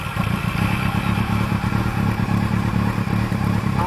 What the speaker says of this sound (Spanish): apretamos la maneta de embrague y arrancamos la moto